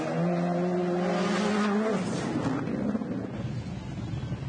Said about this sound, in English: Listen to those tyres.